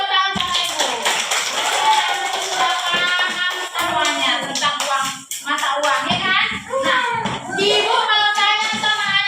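A classroom of primary school children claps for group one, quick irregular hand claps mixed with lively children's voices, fairly close and continuous.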